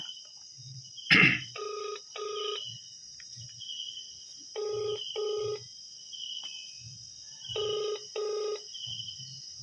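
A phone rings back on an outgoing call, repeated paired electronic ring bursts in a steady rhythm, clear and close, with crickets chirping faintly throughout and a brief clatter near the start.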